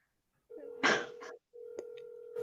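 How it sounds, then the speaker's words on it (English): A telephone rings during a live stream call, two close, clear electronic ringing tones separated by a brief gap, with a short noisy burst over the first ring. "Oh, it's still ringing."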